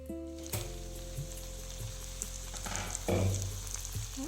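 Cabbage sabji cooking in a covered pan, a soft continuous sizzle and hiss with a few light knocks and a brief louder flare, steady and fairly quiet with no speech.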